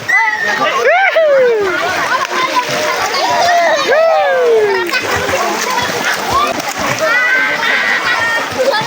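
Water splashes and sloshes continuously at a river bathing spot as a boy learns to swim, with children's voices and adult chatter over the splashing throughout.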